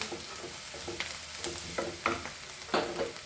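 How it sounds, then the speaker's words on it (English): A spoon stirs turmeric powder into a frying poha mixture, with a series of scraping strokes over a soft sizzle and no talking. "let's add our turmeric powder and mix this all nicely"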